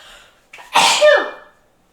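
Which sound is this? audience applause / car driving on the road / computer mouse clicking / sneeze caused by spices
sneeze caused by spices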